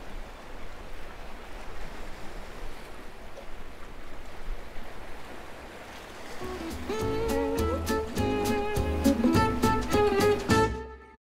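Sea waves wash steadily on the Black Sea coast at Sozopol, Bulgaria, a broad rushing noise with no talking, joined in the last few seconds by loud music over the surf.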